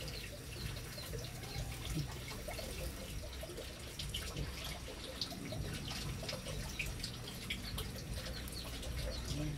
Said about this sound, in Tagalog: Naririnig ninyong running water.